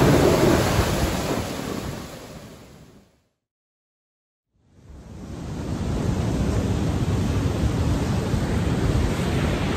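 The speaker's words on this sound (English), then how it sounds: "The thunder is loud, the lightning is brightening up the whole sky, the rain is coming down" Heavy tropical rain in El Salvador roars steadily with deep rumbling thunder underneath, cutting out briefly to silence before the downpour resumes at full strength.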